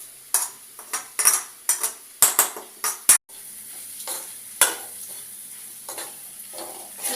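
A spoon scrapes and clacks against a pan while fried egg in oil is stirred and mixed, with a run of sharp irregular strikes, then a softer sizzle and occasional further taps, close and clear.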